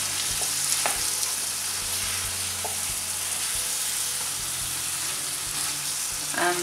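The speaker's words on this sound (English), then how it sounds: "and I'm going to add these to this pan. Just going to mix it." Cubed potatoes frying in a pan for achari aloo, giving a loud, continuous sizzle with occasional soft scrapes and knocks as they are mixed, no talking.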